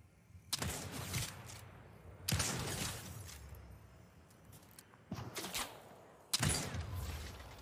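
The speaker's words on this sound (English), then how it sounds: "Three sniper shot hits in a row for the dub." Sniper rifle shots in the Fortnite video game: four sharp, loud cracks spaced about two seconds apart, each trailing off into a brief ringing decay, with no talk over them.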